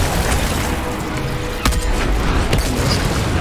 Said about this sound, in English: Where are those rockets coming from?